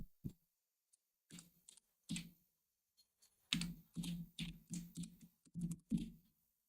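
Computer keyboard typing, quiet and close, in irregular bursts of clicky keystrokes separated by brief pauses, with no talking.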